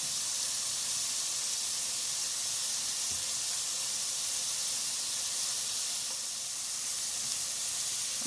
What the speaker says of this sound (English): Cooking with my handy dandy spatula because I don't want to scrape the pot.